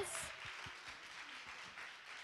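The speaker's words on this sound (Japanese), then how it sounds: "大きな拍手で迎えましょう。" A church congregation gives a welcoming round of applause, soft and fairly distant clapping spread evenly through the short stretch, with low murmuring and voices underneath.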